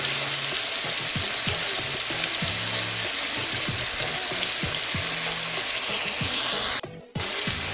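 Tofu, broccoli and beef liver with oyster sauce frying in a pan: a loud, steady sizzle with repeated stirring scrapes throughout, close up, cutting out briefly near the end, no voices.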